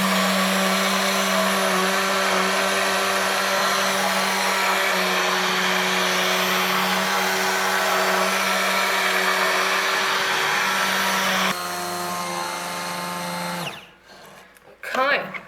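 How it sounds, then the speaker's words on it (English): A stick blender whirs steadily through thick soap batter for about ten seconds, shifts pitch slightly, then shuts off into handling noises. "So I'm going to turn the stick blender on."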